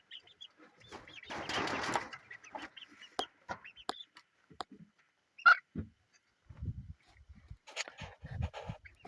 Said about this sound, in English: So there's the update on the chickens.